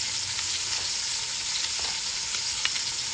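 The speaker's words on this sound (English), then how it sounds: "Alexandra's going to turn the meat over so it browns nicely on another side." Beef rounds browning in a hot pan, a steady broadband sizzle and crackle running throughout with small pops and light scraping, close and even, no voices.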